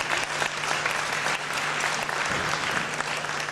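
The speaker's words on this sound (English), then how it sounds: "Let's give a round of applause again to Lieutenant Governor William Walker" Audience applause at a building renaming ceremony for a deaf and hard of hearing services center, steady dense clapping from a large crowd filling the room throughout, with a faint constant hum beneath.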